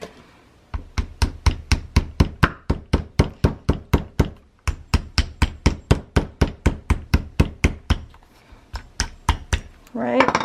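A big old rusted hammer strikes wood in a steady, rapid series of sharp knocks, about thirty blows with a brief pause midway, close and loud.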